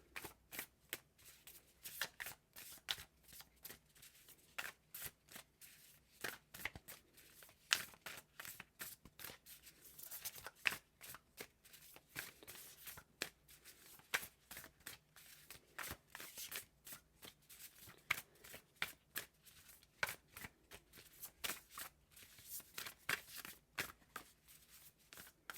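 Oracle cards being shuffled by hand make a long run of soft, irregular riffling flicks and slaps, close and fairly quiet, with no talking.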